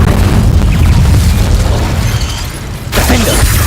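A loud, heavy booming blast of the Incendio fire spell in the game Hogwarts Legacy fills the clip with a dense low rumble, fading slightly before a fresh burst near the end.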